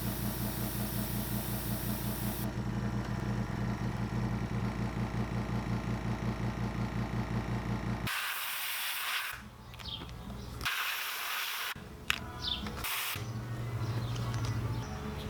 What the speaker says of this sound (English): Let me turn my compressor on.